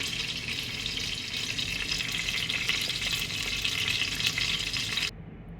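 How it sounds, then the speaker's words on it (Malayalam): Urad dal splutters and crackles steadily in hot oil in a pan, a dense close-up sizzle with fine popping that continues unbroken for about five seconds before cutting off. "ഉഴുന്ന് പരിപ്പ്, അതും ഇട്ട് കൊടുക്കുക. എന്നിട്ട് ഒന്ന് പൊട്ടട്ടെ."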